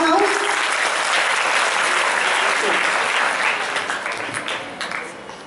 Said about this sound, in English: So give a big round of applause to yellow house